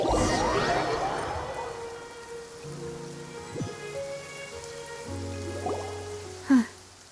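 Steady rain pours through a Genshin Impact scene in Fontaine, a continuous wash of drops heard alongside game music tones, with a brief brighter splash near the end.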